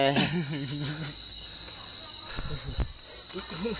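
Field crickets trill in a steady high chorus at night outdoors, joined by brief rustling and a voice speaking nearby in the first second and again near the end.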